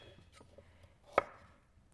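A single sharp knife chop on a cutting board as vegetables are cut small, with a few faint taps around it in a quiet room.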